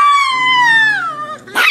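A black dog lets out a long, loud howl that slowly falls in pitch, ending in a short sharp bark, close by with no talking.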